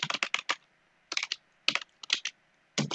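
Code is typed on a computer keyboard in short clattering bursts of quick keystrokes, close and fairly quiet, with brief pauses between groups.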